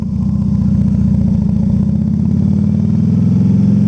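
Motorcycle engine droning steadily and loud while riding, a low throbbing exhaust note held at constant revs with no voices over it.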